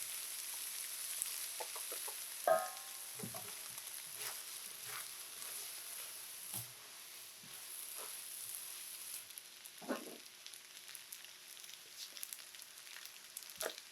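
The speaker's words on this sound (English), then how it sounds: "in the pan and stir fry everything together" Chow mein stir-fried in a pan with soy sauce and Worcestershire: a faint, steady sizzle with scattered scrapes and clinks of a spatula against the pan, no talk.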